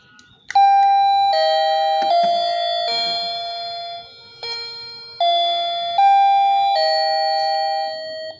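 A bright wireless doorbell chime plays a short melody of sustained ringing tones, pausing briefly, then continuing with another tune.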